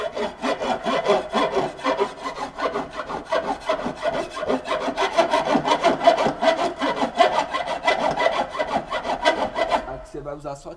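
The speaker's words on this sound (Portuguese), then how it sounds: "lima até ficar lisinho" A hand file smooths the body of a Dodge car under restoration, making fast, continuous rasping strokes in a steady rhythm that stop abruptly at the end.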